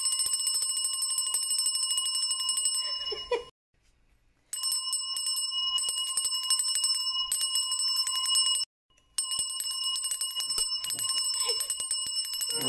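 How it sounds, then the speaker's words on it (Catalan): A small bell is rung repeatedly in long, bright ringing runs, broken by two short silent gaps, clear and close with no talking. "Donar-li a la campaneta."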